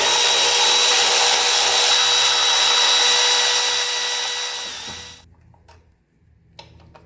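A power tool with a 13 millimeter socket spins off the upper base plate and cruise control base plate bolts on a 1985 Mercedes 300TD wagon, whirring loudly and steadily for about five seconds, then stopping, with a few faint clicks after.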